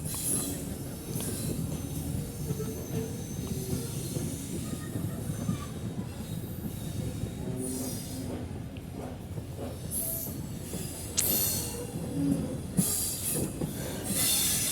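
Passenger train running on the Bangladesh rail line toward Dhaka after the Padma river, a continuous rumble and rattle of carriages with wheel squeals and occasional clacks, heard from inside, steady throughout.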